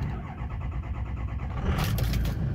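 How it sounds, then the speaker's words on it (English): A 2004 Ford F250 Powerstroke turbo diesel pickup cranks at about 30 degrees with a rhythmic starter chug, then catches and settles into a steady rumbling idle, close by. "Truck fires right up,"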